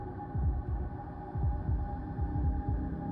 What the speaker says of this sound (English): her heart pounding in her chest